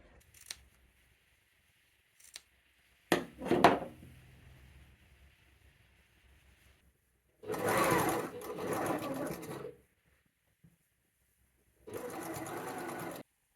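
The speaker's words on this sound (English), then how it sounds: "If your machine doesn't like to go through all of those layers" A home sewing machine stitching through the folded fabric layers of a garment neckline, running in two fast whirring bursts after a few clicks and thumps of handling the fabric.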